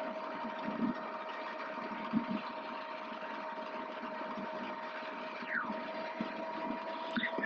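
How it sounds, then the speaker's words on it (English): Robinson R22 helicopter piston engine warming up after clutch engagement, a steady mid-pitched mechanical drone with a constant whine, holding an even level throughout with no talk. "let the engine warm up a bit here."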